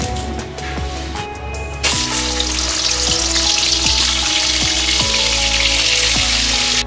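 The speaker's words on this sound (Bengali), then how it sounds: "মাছ ভাজবো" Fish frying in hot oil for a Bengali doi maach, a loud dense sizzle that swells sharply after the first couple of seconds and stays close and constant, with faint background music.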